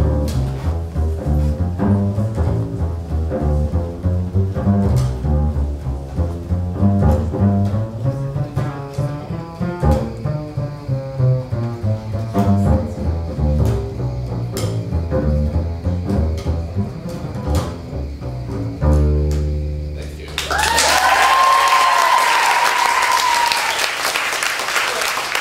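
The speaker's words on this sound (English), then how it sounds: "the bass is really well known for doing what we call a walking bass line" A bass plays a walking bass line, a steady run of single low notes stepping along for about twenty seconds, then the line stops and a loud burst of broadband noise takes over.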